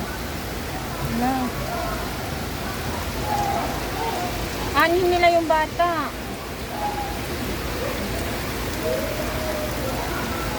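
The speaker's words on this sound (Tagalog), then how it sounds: "Malay ba namin lalakas na ganito ang ulan." Heavy rain pours down in a steady, dense hiss during flooding, while people talk briefly in the middle over the downpour.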